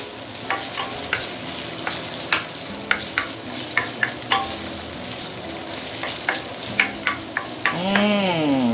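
Young ginger and spring onion sautéing in a pan, a steady close sizzle broken by repeated sharp scrapes and clinks of a spatula stirring, with a scraping sweep at the end.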